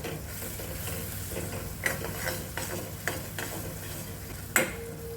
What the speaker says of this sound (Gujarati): આ લોટને આપણે આ તેલમાં શેકાવા દેવાનો છે.